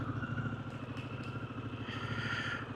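A Harley-Davidson Pan America motorcycle engine runs steadily at a low, even throttle while the bike is pulled into a parking spot, its rumble continuous and close with no voices over it.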